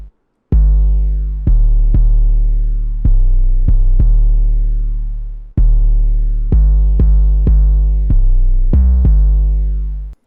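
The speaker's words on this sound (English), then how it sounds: "the first thing you're going to notice is that the 808 sounds really distorted" A heavily distorted 808 bass pattern in a mixed beat, with deep booming notes struck in an irregular rhythm, each sustaining and fading before the next hit, loud and alone.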